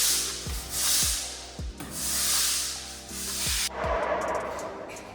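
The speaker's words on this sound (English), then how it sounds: "we just painted the floor with primer" Primer being rolled onto a floor in an industrial studio apartment: long, even rubbing strokes in a steady rhythm, each broken by a soft thump, close and fairly loud with no talking.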